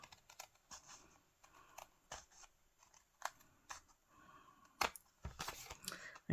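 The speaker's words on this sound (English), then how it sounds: "I'm using scissors for this part" Scissors trimming the edge of a piece of cardstock in a paper craft project: soft, close snips and crisp cuts in irregular bursts, quiet, with small handling rustles between them.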